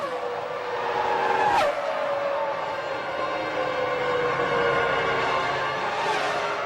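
Formula 1 Ferrari race cars, with Michael Schumacher leading Barrichello at the finish, scream past with high, sharp engine whines that swoop by in quick passes, loud and close over a steady background roar.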